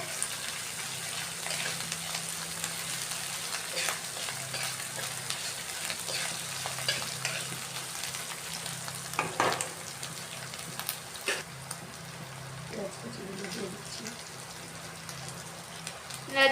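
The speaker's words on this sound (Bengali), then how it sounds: "একটু নেড়ে চেড়ে ভেজে নেবে" Cabbage stir-fries in a pan with a steady, close sizzle and crackle, broken by occasional scrapes and clinks as it is turned over and stirred.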